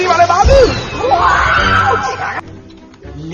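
Several women scream loudly and continuously in a chaotic animated-film scene, their cries overlapping with a crash near the start.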